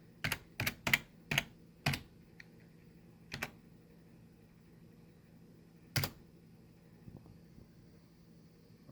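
Keystrokes on a computer keyboard while entering an encryption command: a quick run of five sharp clicks, then two isolated taps after pauses, close and clear over a low steady room hum, no talking.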